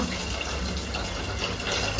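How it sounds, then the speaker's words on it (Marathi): Three glasses of water poured into a cooking pot in a home kitchen, a steady close splashing gush that runs without pause. "पाणी टाका त्याच्यात तीन ग्लास पाणी"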